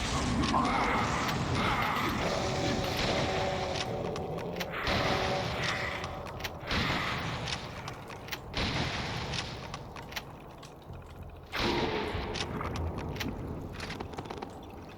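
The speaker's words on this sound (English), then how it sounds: "too bad the water pump is inaccessible" Water pump machinery in a DOOM 2 WAD, Fallout: Vault 666: a continuous mechanical churn with rhythmic creaks and clunks, steady and moderately loud, with brief thumps and dropouts breaking the loop.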